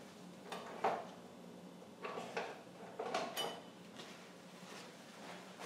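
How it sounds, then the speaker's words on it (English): A spoon gives homemade chicken soup made from rotisserie chicken and vegetables a quick stir in a pot, making a few scattered clinks and scrapes against the sides, moderately faint and without talk. "And then it's just a matter of doing a quick stir."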